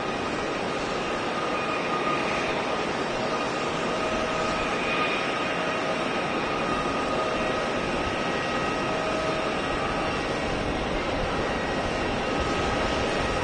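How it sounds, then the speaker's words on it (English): A Delta A321neo jet on approach to land at Boston Logan roars with a steady, continuous broadband engine drone and a faint whine, heard from a distance without breaks. "At Delta Flights, A321neo coming in from Seattle for 427."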